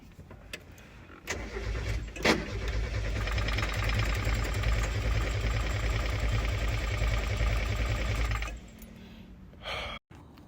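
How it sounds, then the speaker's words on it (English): A Mazda Miata with a blown head gasket cranks on its starter for about seven seconds in one steady, loud, close whirring run, then stops abruptly without catching. "I just want to get it started, or get it showing what it's doing, like it's cranking."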